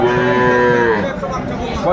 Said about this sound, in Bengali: গাভী বাছুর